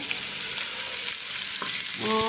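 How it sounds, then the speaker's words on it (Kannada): Onion frying in coconut oil in a clay pot, a dense, loud, close crackling sizzle that runs steadily, with a brief tonal ringing near the end. "ಇಲ್ಲಿಗೆ ಸ್ವಲ್ಪ ಈರುಳ್ಳಿ ಫ್ರೈ ಮಾಡ್ತೀನಿ"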